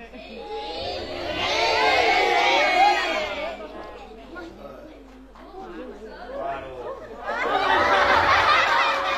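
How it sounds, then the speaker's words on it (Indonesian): A sermon audience claps and cheers in waves of crowd noise and chatter, swelling twice loudly with a quieter lull between, mixed with laughter. "Wah, tepuk tangan."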